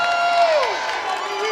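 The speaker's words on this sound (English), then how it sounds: "Denver and this crowd fired up right now" Crowd cheering at a volleyball championship final in Denver, loud sustained roar of voices with a whistle-like tone sliding downward over it.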